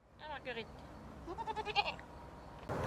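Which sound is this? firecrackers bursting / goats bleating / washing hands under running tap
goats bleating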